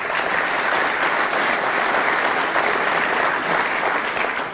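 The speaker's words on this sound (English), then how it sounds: "Please give them a round of applause." Sustained, dense applause from a conference audience at a medical conference welcome session in Mississippi, loud and even from start to finish with no voices on top.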